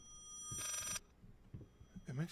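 A single telephone ring sounds in the horror game Layers of Fear, one short burst. Someone talks quietly around it.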